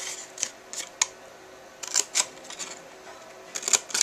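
Scissors snip through the flaps of a folded paper holiday card, a series of short crisp cuts in irregular rhythm, close and clear with quiet gaps between.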